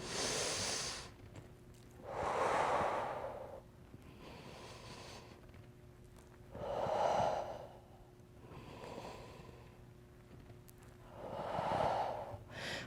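A woman in a stretching class takes several long, audible inhalations through the nose, spaced about every four to five seconds, close and fairly clear over a faint low hum.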